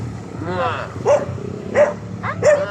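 A dog barks three times in short, evenly spaced yelps, fairly close, over a background of people talking.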